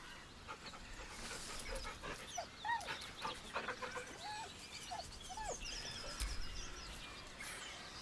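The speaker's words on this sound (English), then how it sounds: "The dog whimpers nervously" Dog whimpering and whining in Baldur's Gate 3, a series of short nasal whines over a steady ambient background.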